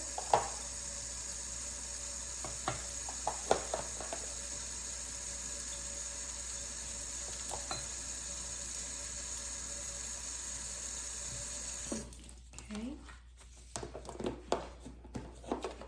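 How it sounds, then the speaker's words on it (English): Pedicure tools rinsed under a running faucet at a salon dispensary sink, a steady hiss of flowing water with scattered light clinks for about twelve seconds before the flow stops, leaving a few faint handling clatters. "They are going to be rinsed under the faucet at the dispensary area."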